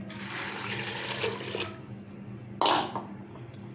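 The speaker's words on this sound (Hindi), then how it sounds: "ये देख, इसमें मैंने डाला पानी।" Water pours and splashes into a pot of chickpeas and chilies in a couple of bursts, close by, with a brief sharp clatter midway.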